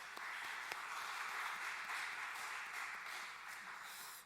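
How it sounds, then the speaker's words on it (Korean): A congregation at a Wednesday worship service at a church in Bucheon applauds the praise team: a steady, dense wash of clapping that holds evenly for the whole stretch at a modest, somewhat distant level with no voices on top. "우리 헌신1구역 가족들과 또 수요 경배 찬양팀 축복하고 격려하는 박수 하도록 하겠습니다"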